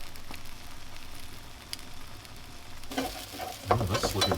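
A leftover pizza omelette cooks in a pan with a low, steady sizzle that grows busier and louder toward the end, where utensil scrapes and stirring noises join in close by.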